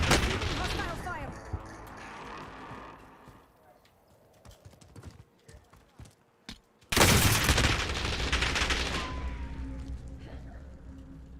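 Hostile gunfire in a video game, with rapid clattering bursts of shots, a quieter stretch of scattered pops, then a sudden loud sustained volley near the end.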